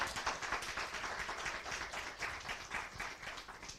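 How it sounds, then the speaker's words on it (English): An audience at an evening candidates forum claims for itself, a moderate, steady patter of hand claps from a modest crowd with an uneven rhythm throughout. "Can y'all give yourselves a round of applause for showing up this evening?"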